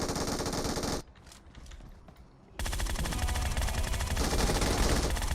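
Rapid bursts of automatic gunfire from an M16A4 rifle in PUBG Mobile, loud and dense, split by a brief quieter gap with a few scattered shots before the sustained firing resumes.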